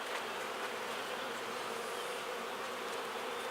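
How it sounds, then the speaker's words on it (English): Honeybees swarm close around a beekeeper inspecting a hive hit by wax moth, a dense, steady buzzing hum that fills the air without a break. "I got a bunch of bees around me."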